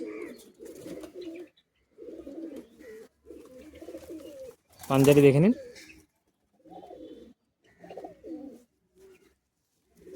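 Pigeons in a Bagnan loft give repeated low, throaty coos in short rhythmic bursts with brief pauses, close and clear, broken midway by a louder harsh rasping sound; someone speaks briefly.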